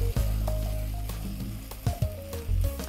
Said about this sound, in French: On va maintenant mélanger le tout.